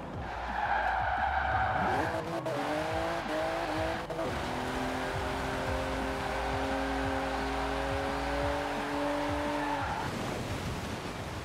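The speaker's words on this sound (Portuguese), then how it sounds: "o carro escorrega muito no inverno" A car slides on a snowy winter road in Forza Horizon 4, its tires screeching in a long continuous squeal under a loud, steady engine drone for several seconds before the skid ends.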